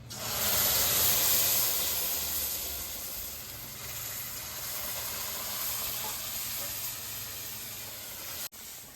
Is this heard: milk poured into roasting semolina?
yes